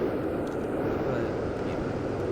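A steady, broad jet engine roar from a plane built in the video game Plane Crazy fills the whole stretch, a continuous even drone under faint background.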